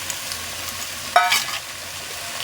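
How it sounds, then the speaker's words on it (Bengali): Fried snails stirred into a pan of bottle gourd greens curry: a soft background sizzle with one brief, sharper scrape of the spoon partway through, close and fairly quiet, without speech. "দু এক মিনিট ভালো করে নেড়ে নেবো"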